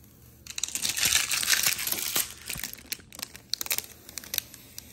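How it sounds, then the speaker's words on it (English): Plastic wrap peeled off a new gaming monitor, a loose run of crinkling and tearing crackles that is dense at first, then breaks into scattered sharp crunches, close and alone. "So the plastic around the monitor was actually one big piece"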